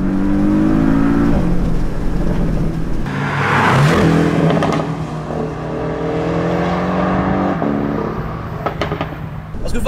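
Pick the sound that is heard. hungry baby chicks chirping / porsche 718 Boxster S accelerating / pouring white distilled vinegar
porsche 718 Boxster S accelerating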